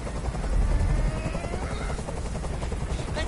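A helicopter in the video game Detroit: Become Human hovers close by, its rotor thumping in a loud, steady pulse with engine whine, continuous throughout.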